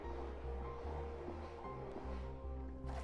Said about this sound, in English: Oh, this water's getting up higher and higher.